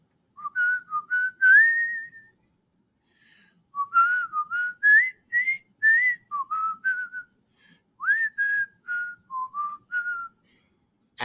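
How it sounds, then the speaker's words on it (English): Short whistle signals sound alone in a quiet room, marking a pause in a school listening exercise. About a dozen pitched notes come in uneven bursts, some sliding up and down, with clear gaps between groups. "Whenever you hear whistles, that's always a good time to stop and follow through with the audio directions"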